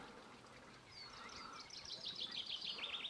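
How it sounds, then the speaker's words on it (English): Birds sing beside Buttermere lake in a quiet outdoor setting: sparse chirps at first, then a run of bright, rapid twittering calls grows clearer and closer toward the end over a soft background hush. "Nothing but the bird song here."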